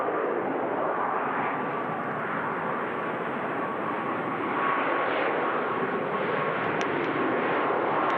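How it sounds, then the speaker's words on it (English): A Ryanair Boeing 737 Max passes at Manchester Airport in rain, its steady jet engine roar broad and fairly loud throughout, with no voices. "Here's the Ryanair Max we were talking about before"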